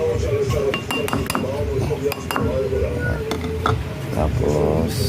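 Egg mixture is stirred in a glass bowl, the utensil clinking sharply against the sides in quick irregular taps up close, while a person talks throughout.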